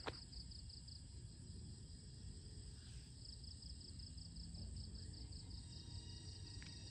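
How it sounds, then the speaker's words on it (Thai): Insects chirp in a rural evening setting after rain, a faint, steady high-pitched trilling with rhythmic pulses running throughout, over a low background rumble and no talking. "เสียงแมงใหม่"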